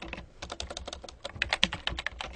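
Fingers type on a computer keyboard: a close, quick, uneven run of crisp key clicks, some struck harder than others, with no speech.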